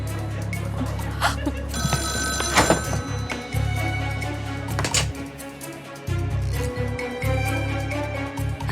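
A phone rings with a bright, repeating ringtone amid background music, with thumps and other indoor noises mixed in.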